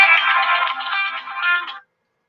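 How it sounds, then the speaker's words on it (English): A phone ringtone for an incoming call plays loud and close as a bright, continuous electronic melody for nearly two seconds, then cuts off into silence. "Who's calling me?"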